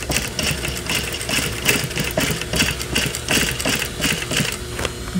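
A sewing machine runs a short burst of stitches through jeans during a crotch alteration, giving a rapid, rattling mechanical chatter with steady rhythmic pulses, close and alone.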